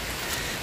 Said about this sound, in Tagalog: Ayun, ang lakas na naman ng ulan.